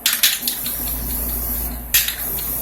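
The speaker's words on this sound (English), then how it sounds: "I'm going to go back and kind of spray it right on the top of those dunes" A spray paint can blasting fast-dry paint onto a painting in short hissing bursts, a couple of sharp sprays with quieter spraying between.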